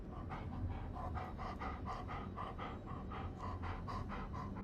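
Bullet the dog pants in Blair Witch, a steady, rapid rhythm of short breathy huffs, close and alone, continuing evenly throughout.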